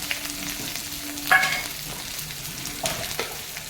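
Onion and green chili hit hot oil in a pan and fry with a steady low sizzle, with a couple of brief louder scrapes or stirs.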